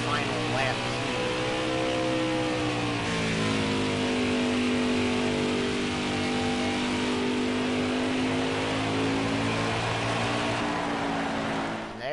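Craftsman Series pickup trucks run the final practice lap at Richmond, a continuous loud engine drone whose pitch rises and falls as the trucks pass around the short oval.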